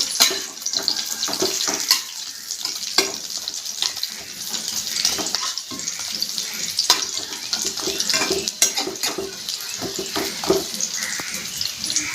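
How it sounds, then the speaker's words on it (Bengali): Bora fritters fry slowly over low heat in a pan, giving a continuous close sizzle broken by frequent sharp pops and stirring scrapes. "এবার ভাজা হোক আস্তে আস্তে করে, একদম জাল কমিয়ে দিতে হবে।"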